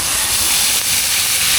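Blended dragon fruit mixture hitting hot ghee in a pan for halwa, giving a loud, steady sizzling hiss with spattering throughout, close up and with no voices.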